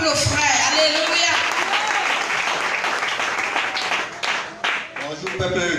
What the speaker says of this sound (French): Acclame très fort pour ce témoignage.